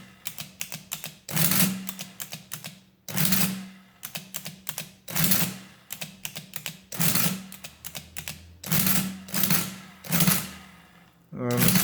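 A Victor Automatic four-function printing mechanical calculator runs repeated adding cycles, each a loud, close burst of ratcheting mechanical clatter and printing thumps. The bursts come in steady succession with brief gaps between them.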